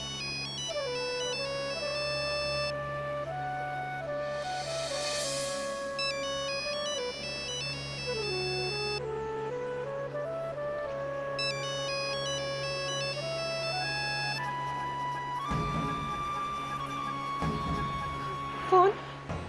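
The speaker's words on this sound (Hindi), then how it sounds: "घंटी यही कहीं बज रही है।" A melodic ringtone plays on and on in a repeating tune, fairly clear, with some talking and a few thumps near the end.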